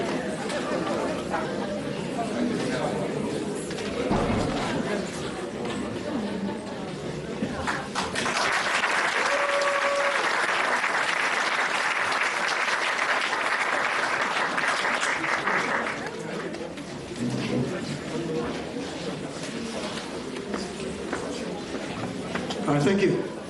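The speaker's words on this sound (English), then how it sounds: "Another nice hand of applause for these lovely children." Audience applause for a children's Diwali dance performance at a police community celebration, steady clapping across the crowd with chatter and an amplified voice over it, swelling louder mid-way then easing off.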